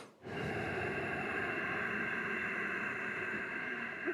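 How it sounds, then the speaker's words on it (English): Steady, forceful nasal exhalation during Plavini pranayama practice, a continuous breathy hiss that starts abruptly and holds evenly for about four seconds, close and alone. "Close the mouth and exhale through the nose."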